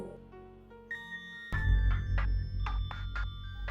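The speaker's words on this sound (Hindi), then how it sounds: "फोन बज रहा है।" A phone ringtone rings out in a repeating electronic pattern, loud and close, after a brief quieter stretch of tones.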